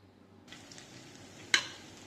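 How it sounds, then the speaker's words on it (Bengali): Mustard oil heating in a pan starts with a soft, even sizzling hiss after a quiet moment. One sharp clink of metal sounds close by near the end. "প্যানে তেল বসিয়ে দিয়েছি। আমি এখানে সরিষার তেল ইউজ করেছি।"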